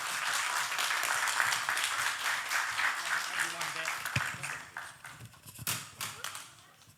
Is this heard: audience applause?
yes